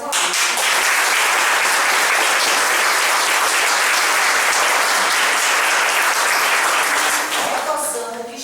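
Sustained applause from an audience at an evening course graduation event, dense and steady throughout before tapering off at the very end, with a faint voice emerging as it fades.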